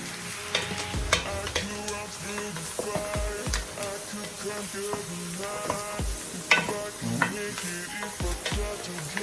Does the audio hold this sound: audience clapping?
no